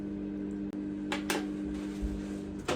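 A microwave oven runs with a steady low electrical hum and a constant mid-pitched drone throughout, broken by a few brief clicks and rattles.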